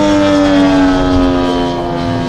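A propeller airplane's engine drones loudly and close during an aerobatic manoeuvre at a 2018 Wings For Kids flying event, a steady, strongly pitched roar with power on.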